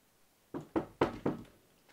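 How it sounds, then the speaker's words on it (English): Four firm knocks on a door in quick, even succession after a brief quiet lead-in, close and clear, followed by silence. "There's somebody at the door."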